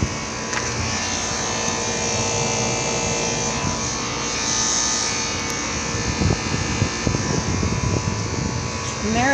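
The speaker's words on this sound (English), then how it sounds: "that compressor's maybe on its last legs" A 2024 1.5-ton heat pump with a Marathon compressor that may be near failure runs with a steady buzzing drone and rattly hum, loud and close, with a brief voice at the very end.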